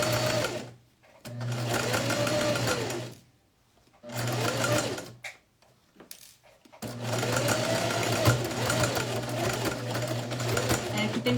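A sewing machine runs in three bursts while stitching a pocket, its steady motor whir pausing as the fabric is turned with the needle down, then resuming for a longer run; close and loud.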